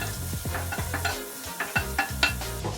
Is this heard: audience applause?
no